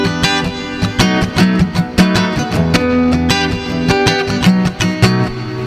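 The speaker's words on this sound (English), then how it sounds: "Or a clean electric with an acoustic," An Ibanez Montage MSC500MBK guitar blends a clean electric tone with an acoustic tone, playing a steady rhythmic strummed pattern with repeated chord hits, loud and close, with no talking.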